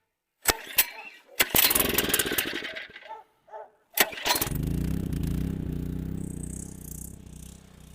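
A motor-driven water pump is switched on, preceded by a few sharp clicks and knocks, then settles into a loud, steady mechanical drone that runs on alone.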